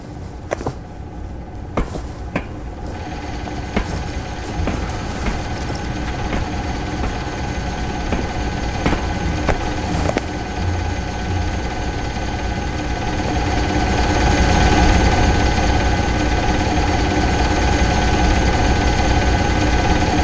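After a starter repair, an engine catches with a few sharp clicks and ticks, then settles into a loud, steady running drone with a mechanical rattle that swells slightly toward the end, close by and without voices.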